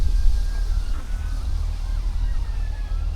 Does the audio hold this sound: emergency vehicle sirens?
yes